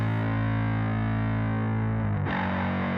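Bass guitar run through Guitar Rig with a saw-wave distortion, a thick, buzzy, synth-like sustained note that holds steadily before shifting to a new pitch near the end.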